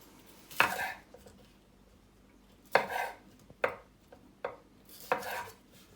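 A knife cuts pieces of capsicum on a cutting board in a home kitchen. Four or five sharp, separate chops fall at an uneven pace and sound close by, with no talking.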